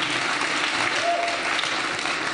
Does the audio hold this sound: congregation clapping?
yes